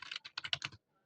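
A short burst of keystrokes on a computer keyboard as a command is entered, about eight quick close clicks in an uneven rhythm followed by silence.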